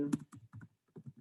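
Fingers type on a computer keyboard in short bursts of close, soft key clicks with brief pauses between groups.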